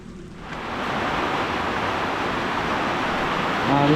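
Heavy rain pouring down at a tiny house build site in the Philippines, a dense steady roar that swells in after a quiet start and continues loud throughout.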